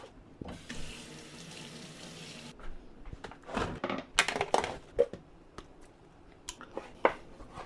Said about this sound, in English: So right here now, we have some hot pepper. Rinse these off.